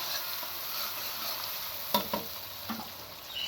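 Green chilies and chopped onion fry in a pan for a hilsa fish head and cucumber curry, producing a soft, steady sizzle with a few sharp spoon clinks and scrapes near the end.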